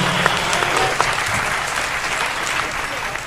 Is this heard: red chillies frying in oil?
no